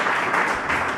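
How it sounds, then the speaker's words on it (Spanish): An audience applauds a speaker at a talk on fibromyalgia research, a brief burst of many hands clapping, moderately loud and fairly even, with no voices over it. "Un aplauso para él."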